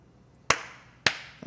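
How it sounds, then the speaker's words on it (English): Two sharp, loud hand claps land right on a microphone about half a second apart, each ringing briefly in a quiet room, followed by a softer, smaller tap at the end. "I'll try not to clap into the microphone"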